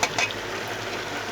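Pumpkin pieces tipped into a pot of fried mutton, setting off a steady close sizzle and crackle of hot oil with a brief stirring clatter at the start.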